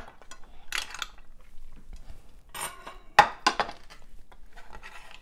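A knife slices okra on a plate, giving several sharp taps and clicks of blade on ceramic, spaced irregularly with quiet gaps between them, close and clear with no talking.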